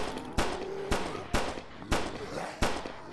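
Kalashnikov assault rifle firing in the zombie shooter Blood Waves, five sharp single shots spaced about half a second apart, loud and close over a steady low game ambience.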